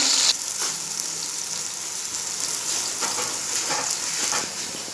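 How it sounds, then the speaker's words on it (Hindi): Garlic, ginger and green chili paste frying in hot oil in a kadai, a steady soft sizzle and crackle close by with faint stirring scrapes, no talk. "पहले एक कढ़ाई लें उसमें ऑयल गरम करें लहसुन अदरक और सब्ज़ मिर्चों का पेस्ट थोड़ा फ्राई कर लें"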